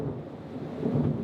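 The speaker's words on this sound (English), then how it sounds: "that kind of thunder was basically exactly at the same time as an extremely bright lightning" Loud, rumbling thunder crashes during a lightning storm at sea, heard from a sailing boat. It is one sustained, close boom with no voices.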